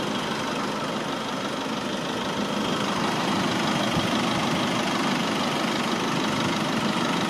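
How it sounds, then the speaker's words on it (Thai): A stock Nissan Navara Calibre pickup engine runs loud and close with a steady, rough mechanical drone and slight knock, holding a fairly even idle-like pitch rather than clear rising revs. "อันนี้เบิ้งเครื่องแห่งฟังนี่เลยเบิ้งได้เลยคือเครื่องเดิมๆทุกอย่างครับ"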